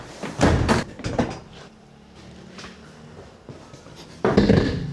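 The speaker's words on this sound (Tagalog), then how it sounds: "tatanggalin ko muna yung isang upuan para mas maluwang." Seat being taken out of the back of a van at a campsite, with loud clunks and knocks near the start and again at the end, quieter handling in between.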